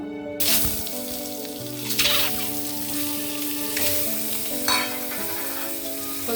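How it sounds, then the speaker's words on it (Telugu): Eggs frying lightly in a little hot oil with turmeric: a continuous sizzle with periodic louder hissing surges from stirring, alongside steady sustained tones in the background. "కొద్దిగా ఆయిల్ వేసి కొంచెం పసుపు వేసి లైట్గా వేపుతాను"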